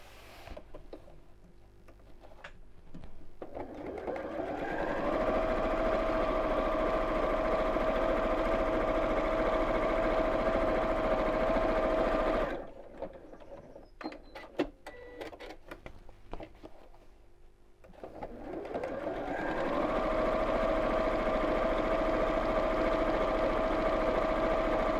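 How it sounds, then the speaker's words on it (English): A sewing machine top stitches across the top and bottom of a simple fabric purse, running steadily in two long bursts of even motor whir with a quieter pause between them. "I'm just going to top stitch across the top and across the bottom"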